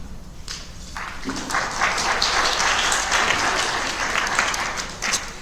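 A university lecture audience at Whitworth claps warmly after an introduction, dense and fairly close, swelling then holding steady for several seconds with a few louder individual claps near the end.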